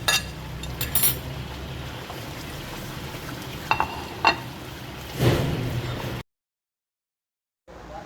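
Masala with cumin powder and salt frying in oil for beef qofta, a soft continuous sizzle with a few spoon clinks and stirring scrapes, then a sudden brief silence before the sound resumes.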